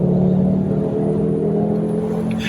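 Volvo 850 T5 under steady acceleration on a windy road, its engine making a low, continuous hum and rumble heard from inside the car.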